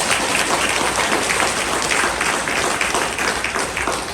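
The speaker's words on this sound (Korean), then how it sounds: "박수를 치려면 제대로 치세요." A Catholic church congregation applauds during a homily, a loud, dense burst of many hands clapping that stays steady before easing slightly at the end.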